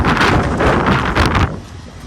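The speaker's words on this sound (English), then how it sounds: "sorry, I know it's windy" Strong wind buffeting a microphone outdoors in West Texas oilfield country, loud rumbling gusts for about a second and a half before easing off.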